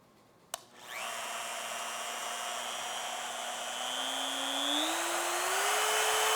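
Bite Harder rotary sharpening tool spinning up to 20,000 RPM, a click at switch-on followed by a loud, steady high-pitched motor whine whose pitch climbs as it gains speed, close and alone.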